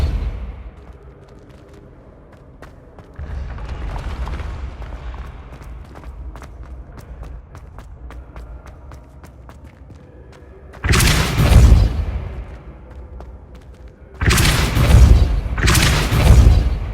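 Loud explosive blasts from the Confringo fire spell in the video game Hogwarts Legacy: one heavy boom in the middle, then two more close together near the end, over a low rumbling game background.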